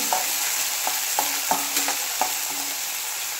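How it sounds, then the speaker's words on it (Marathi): Mixed sprouts roast in hot oil in a pan, giving a steady close sizzle broken by light scrapes and taps of stirring, with no talking. "आता हे व्यवस्थित तेलामध्ये भाजून घ्यायचे आहेत मोडे"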